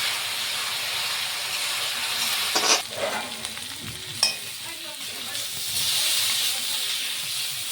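Spices for a Bengali fish curry sauté in an iron pan, giving a steady, fairly loud sizzle with a couple of sharp stirring scrapes partway through, and no voices over it.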